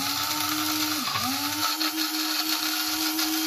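An electric grinder whirs steadily as it grinds dry egusi seeds in a kitchen, a high continuous motor whine that dips briefly under load and then steadies.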